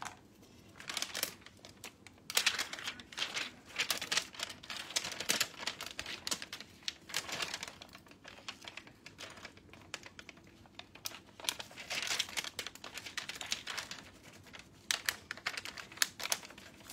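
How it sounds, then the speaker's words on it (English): Decoupage paper being rubbed down by hand and peeled off a chest of drawers, a steady run of close, dry scratchy rustles and crinkles with short bursts of crackling as the top sheet comes away. "just to make sure that I'm not missing any pieces as I pull my top sheet off"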